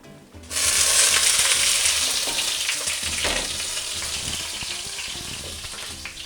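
Fish cooking with papaya in a pan without oil, a loud sizzle that starts abruptly and then settles into a steady, slightly fading crackle with a few stirring knocks, no voices.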